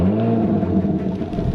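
Audi S5 engine rumbling up near the microphone, a steady low growl with a rising whir as it revs, loud and unaccompanied by voices.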